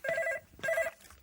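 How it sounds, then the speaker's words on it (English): An old-style telephone bell rings twice in quick succession, each ring a bright trilling burst lasting under half a second, clear and close with no talking over it. "Oh, there's the phone."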